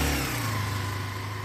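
A motorbike engine revs and holds a steady, loud, throaty drone close by, with a low rumble running throughout and no speech.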